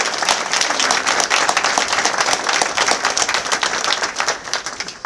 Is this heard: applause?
yes